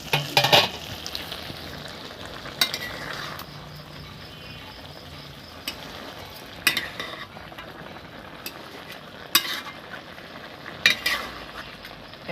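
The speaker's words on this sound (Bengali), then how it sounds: "আমি এবার এটা নেড়ে দেব।" Bottle gourd leaves with a splash of water stirred in a pan on the stove: a steady close sizzle with sharp utensil scrapes and clicks recurring every few seconds.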